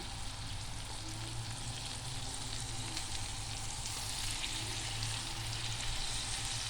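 Salmon frying in butter in a pan, a loud, steady, close sizzle with constant crackle and spatter, no talking.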